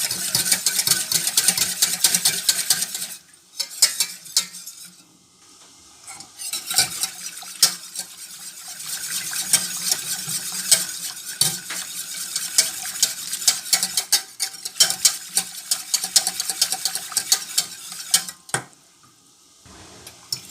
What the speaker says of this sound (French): on va remuer jusque quand ça va bien épaissir